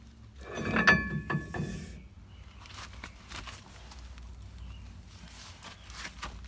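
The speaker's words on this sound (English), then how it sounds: "And now I can slide my axle out." A rear axle shaft on a 1994 Ford F150 scrapes and clunks as it is slid out of the housing, a loud burst of metallic grinding and rattling followed by softer shuffling and knocks.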